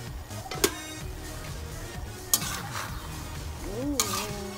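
Baguio beans, sardines and malunggay leaves are stirred in a frying pan, with a quiet sizzle broken by three sharp scraping clacks of the utensil against the pan.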